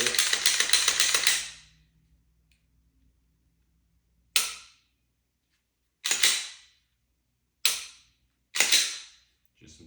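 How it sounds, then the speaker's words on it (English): Glock 19 Gen 3 pistol dry fired after cleaning, giving several crisp mechanical clicks close up, isolated and irregularly spaced after a brief stretch of handling noise. "Just some test dry fire."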